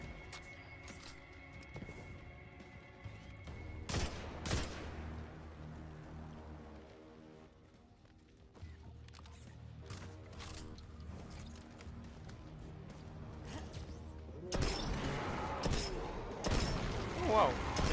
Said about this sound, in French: Cette arme fait un bruit très chelou